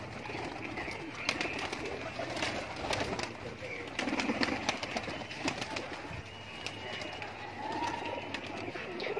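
Golden pigeons in a loft of a Laal Pari breeder pair coo softly and continuously, low murmuring calls with occasional flutters under a busy background, mixed with distant voices.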